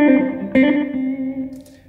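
An electric guitar played through a slapback delay effect: a sustained chord is struck again once, with a quick single echo trailing behind, then rings out and fades with no voices.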